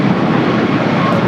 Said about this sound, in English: Japan Airlines staying here for a south side takeoff